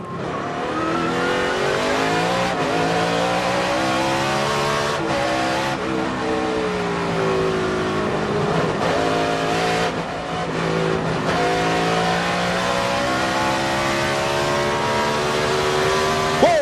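Onboard a NASCAR stock car at the 2005 Dodge Save/Mart 350 road race, the engine roars loud and close throughout, its pitch rising and falling with shifts and braking, with no talk over it.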